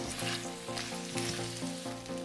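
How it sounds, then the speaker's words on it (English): Red potatoes sizzle and fry in a cast iron skillet, a continuous bright crackling hiss with a few soft stirring scrapes and no talk. "Add our beautiful red potatoes into our cast iron skillet. Start to cook them down."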